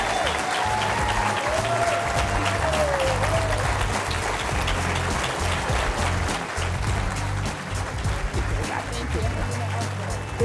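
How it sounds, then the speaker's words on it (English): A crowd claps loudly and continuously, with a voice speaking briefly under the applause near the start. "Let's give her a round of applause."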